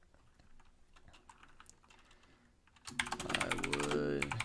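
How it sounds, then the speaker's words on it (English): Fingers type on a computer keyboard, light scattered keystrokes at first, then a rapid, louder burst of continuous clicking close by, with a faint tonal hum beneath and no talking. "I'm literally typing this out verbatim."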